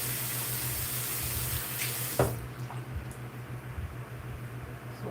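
Water sprayed onto a section of natural gray hair before styling twists: a steady hissing spray that runs for about two seconds over a low hum, then cuts off and leaves a quieter room with a few soft handling sounds.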